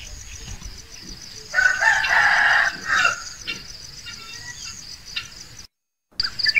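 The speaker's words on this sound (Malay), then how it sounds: "Kedengaran ayam sedang berkokok." In a foggy hill village near Gunung Nuang at dawn, a rooster lets out a single loud crow lasting a couple of seconds, with crickets chirping steadily underneath and faint scattered sounds afterward.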